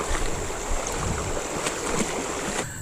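Rushing water pours across and down a stream while fishing, a steady broadband wash of flowing and splashing water, fairly close and continuous throughout, with no talking.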